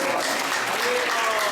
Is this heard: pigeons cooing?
no